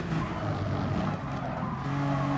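GT3 race cars, including a Toyota Supra, in a sim racing video game: a loud, steady engine roar with tire noise and shifting pitch as the cars run close together, with no pauses.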